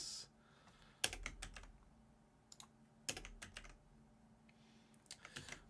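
Keys clack on a computer keyboard whose control button is failing, in short bursts of quick taps separated by quiet pauses, close and fairly soft.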